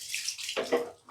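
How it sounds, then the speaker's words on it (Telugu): Water poured or splashed into a bucket or tub for hand-washing clothes with Rin bar soap, a short close splashy rush of water on its own with no talk. "కొంచెం వాటర్ అయితే తీసుకున్నా చూడండి"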